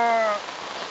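Heavy rain pours down at a campsite in Baling, Kedah, a dense steady hiss of drops on surfaces, loud and close, with a brief tonal hum fading out in the first moments.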